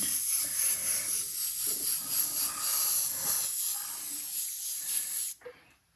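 An airbrush sprays candy color paint in a continuous loud hiss that runs for several seconds, then stops abruptly, leaving near silence.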